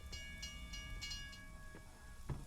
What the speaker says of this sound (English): I think both trains went past.